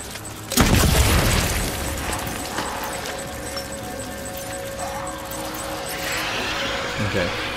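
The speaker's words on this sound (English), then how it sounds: "Grenade launcher." A grenade launcher round bursts in Death Stranding: one loud, deep boom near the start, followed by a long, noisy rumbling tail with a voice speaking over it.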